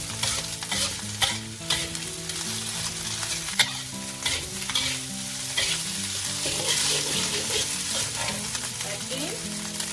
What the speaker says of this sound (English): just add in the rice. You can see I'm using a big wok, so it's easy to stir fry.